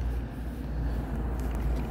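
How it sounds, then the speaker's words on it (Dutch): A bus rumbles by at Den Haag HS train station, a steady low engine drone with road noise holding constant for a couple of seconds, no voices. "En dit is een bus."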